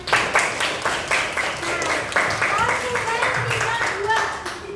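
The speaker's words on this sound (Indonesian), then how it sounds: "Beri tepuk tangan." Classroom applause as a group of students claps together, a quick steady patter of many hands that carries on throughout, with voices mixed in alongside.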